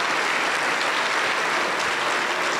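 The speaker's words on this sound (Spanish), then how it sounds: "Un fuerte aplauso para el Señor Jesús." A dense, even wash of applause from a Pentecostal church congregation fills the whole stretch, steady and fairly loud with no single claps standing out.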